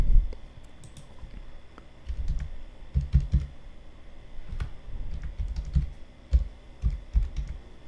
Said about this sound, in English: you can just type here, just type whatever you like